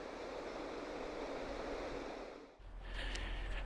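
Water spilling over the Wormleighton Reservoir spillway on the Oxford Canal summit, a steady broadband rush that dips briefly near the end before resuming with faint wind noise, continuous and fairly close.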